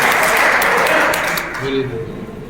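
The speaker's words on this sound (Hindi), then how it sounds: "एक बार जोरदार ताली" Audience applause at a Valmiki community gathering in a Valmiki Bhawan, a dense wash of clapping that starts loud and thins out over a couple of seconds while a voice begins to speak underneath.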